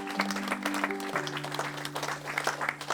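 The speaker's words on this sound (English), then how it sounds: "So please, another round of applause for Chris" An outdoor crowd at a park painting event claps in steady, dense applause throughout, with a sustained droning tone running beneath it.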